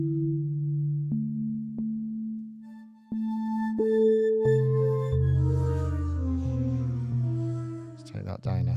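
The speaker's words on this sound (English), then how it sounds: "It's quite nice as a sine wave." Pure sine-wave oscillator from the Arturia Pigments utility engine, playing a sequence of clean sustained pitched tones that step between notes and shift range, ending in a brief burst of brighter clicks, with no talking.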